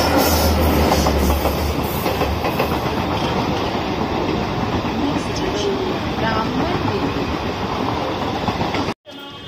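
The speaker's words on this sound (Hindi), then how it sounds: "भाई ये फास्ट थी ट्रेन" A fast train rushes past close by near a Mumbai station, loud continuous rumble and clatter of rail cars filling the whole stretch before cutting off abruptly near the end.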